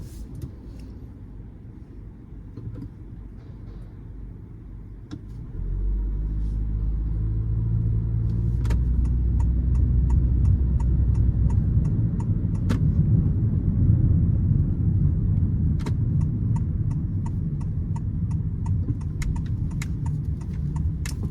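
A Honda HR-V rolls along the road, its low engine and tyre rumble rising and holding steady after a quieter opening, with faint clicks scattered over the drone.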